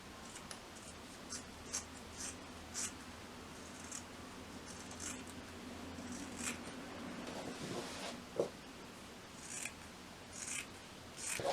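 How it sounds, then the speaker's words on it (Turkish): Scissors snip through fabric being cut apart for wide-leg summer trousers, a run of crisp close cuts with brief pauses between them and a light rustle of cloth, no voices. "Buradan gene kesiyorum"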